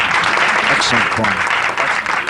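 Crowd applause fills the hall after a men's kata performance at the 1982 AAU USA Karate team trials in Cleveland, Ohio, a loud sustained clapping with a voice talking over it.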